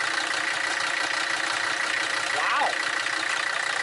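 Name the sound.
Mercedes 300SD diesel engine idling after radiator repair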